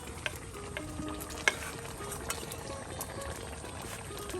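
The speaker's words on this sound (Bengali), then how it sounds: "দিয়ে দেওয়া হচ্ছে ভেজে নেওয়া মাছগুলো।" Pieces of fried tilapia dropped into a simmering pumpkin curry cooked outdoors by a riverbank, a close, steady bubbling sizzle with a few sharp clinks and scrapes of a utensil against the pot; no speech over it.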